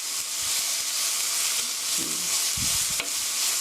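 Welsh onion and carrot stir-fry in a pan with a steady, dense sizzle, close by, with faint low stirring knocks now and then.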